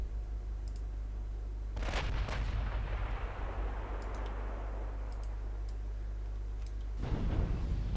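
Heavy naval guns boom in a 1948 Norwegian campaign of a naval warfare game, warship main batteries firing on a battlecruiser: two sharp salvos several seconds apart over a steady low engine drone, with faint ticking clicks between.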